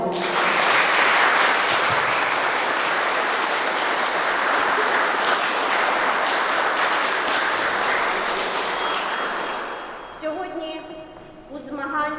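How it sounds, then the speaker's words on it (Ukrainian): Loud, sustained applause from a large crowd at a girls' volleyball tournament, dense and even for several seconds before tapering off as it ends. "висловів свою вдячність нашим мужнім, незламним захисникам гучними оплесками"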